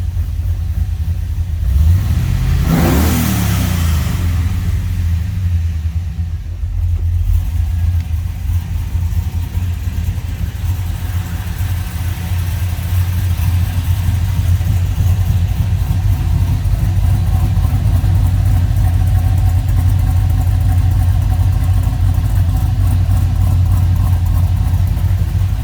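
A 1974 Chevelle Malibu with an LS engine swap revs up sharply once near the start, then settles into a steady, loud, choppy idle that rumbles on close by with no talking.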